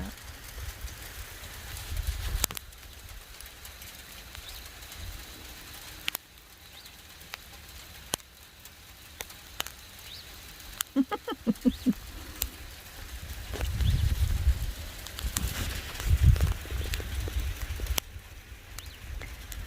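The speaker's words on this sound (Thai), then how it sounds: "ลูกเห็บน้อยตก ลูกเห็บน้อยตก" Small hailstones falling outside a house, heard as faint, scattered sharp ticks and clicks at irregular intervals, with a few louder clusters of impacts over a quiet background.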